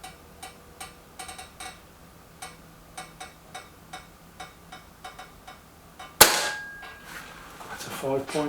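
An air rifle, either a Kral Puncher Breaker or a Reximex Accura, fires a single sharp, loud shot that hits a target after a run of steady, regular ticking clicks, followed by a brief ringing tail.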